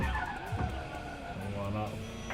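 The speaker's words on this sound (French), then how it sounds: "Et là, petit dérapage." A car in Watch Dogs Legion slides into a skid with a squealing tire whine and a rising and falling engine note, while someone talks over it.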